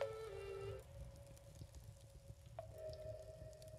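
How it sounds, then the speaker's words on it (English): The background audio of an Unreal Engine 5 game menu plays quietly, with a soft crackling, dripping ambience of fire and water under sustained tonal music notes. No one speaks. "The sounds in the background, like the fire, the water drippings, the music."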